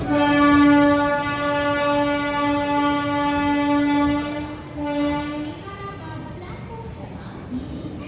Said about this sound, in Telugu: ICF కోచెస్ అయితే రన్ అవుతుంది ఆ train. VAP 4 locomotive ICF coaches